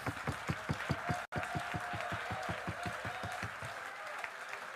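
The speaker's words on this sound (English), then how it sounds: "Thank you for your applause." At a college debate, the audience breaks into steady rhythmic clapping, even and unison-like, many hands beating in a regular pulse, heard faintly from a distance and continuing throughout.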